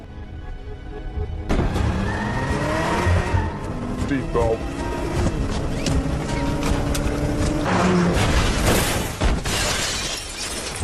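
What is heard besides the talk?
car crashing into a wall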